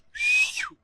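A single shrill whistle, sharp and loud, is blown at the entrance of a Jallikattu bull-taming event, lasting under a second and bending downward at the end before a brief thump.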